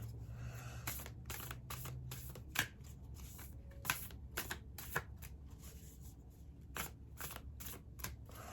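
A deck of tarot cards being shuffled close up, giving repeated short riffling bursts and soft slaps in an irregular rhythm over a low steady hum, with no voice.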